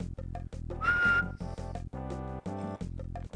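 A short, high whistled note from The Owl House animated series rising over a busy, rhythmic music track, loud and close.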